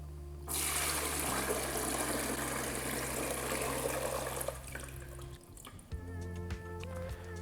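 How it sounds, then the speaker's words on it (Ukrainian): Water poured from a carafe into a Bravilor Bonamat filter coffee machine, a steady close splashing stream that stops after about five seconds, followed by softer trickling and dripping. "Ми заливаємо воду, ставимо на місце кухоль."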